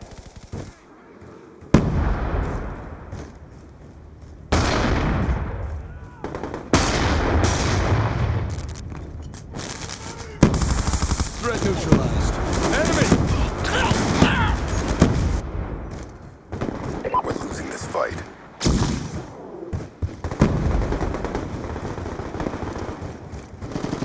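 Rapid machine gun bursts and single gunshots crack through a military shooter video game battle, loud and close, with booming impacts and short pauses between volleys, while game voices call out over the firing.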